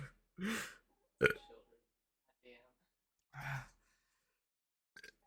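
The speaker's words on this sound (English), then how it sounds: "Okay, here comes the burp." A burp after chugging Diet Wild Cherry Pepsi, a short close belch among breathy gasps and sighs in an otherwise quiet room.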